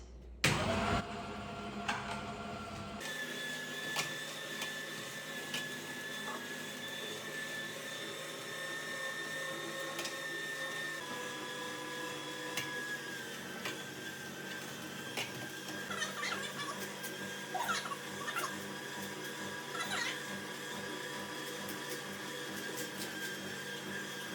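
An electric juicer whirs steadily after a brief clatter at the start, its motor hum droning on with shifting grinding tones.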